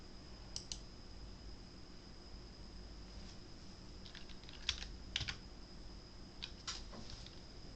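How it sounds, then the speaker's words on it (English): Sparse, faint clicks of keys being tapped now and then over a steady background hiss, no voices. "I can hear typing"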